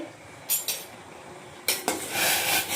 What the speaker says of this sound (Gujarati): આને સરખી રીતે મિક્સ કરી દઈશું